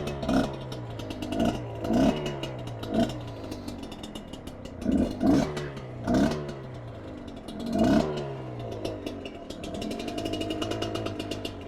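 Carbureted Kayo KT 250 two-stroke enduro motorcycle engine idling nearby, with repeated sharp throttle blips rising and falling in a stuttering rhythm before settling into a steady run.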